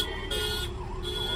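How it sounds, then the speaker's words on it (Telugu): Police siren vehicles in a VIP convoy wail in a rising and falling electronic tone, heard steadily at moderate distance over road and traffic noise, with no talking. "అన్ని పోలీస్ సైరన్ బండ్లే వస్తున్నాయి."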